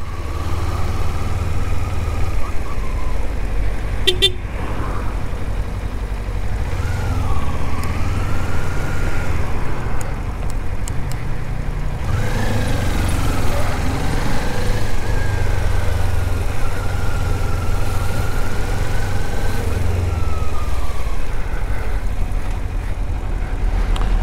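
Kawasaki Ninja 400 motorcycle riding in second gear through a traffic jam, its engine a steady low hum heard up close throughout, with small shifts in pitch as the throttle changes and wind and traffic noise around it.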